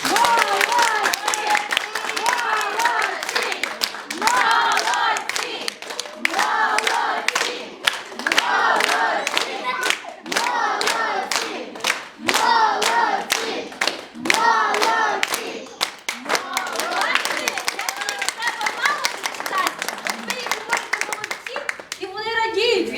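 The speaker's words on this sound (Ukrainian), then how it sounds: "давайте подаруємо такі гарні оплески нашим дітям" Loud, dense applause from a crowd at a children's party in a kindergarten, with scattered shouts and children's voices mixed in, continuing steadily before tapering near the end.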